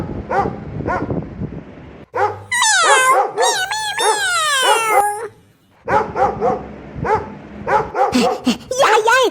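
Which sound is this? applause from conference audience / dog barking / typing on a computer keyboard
dog barking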